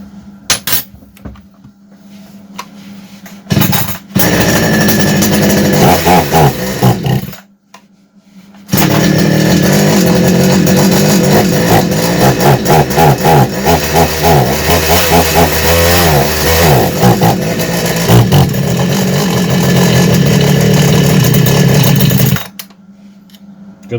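A repaired Kitprom gasoline chainsaw engine sputters, dies briefly, then fires up and runs loudly and roughly with uneven revving close by before cutting off.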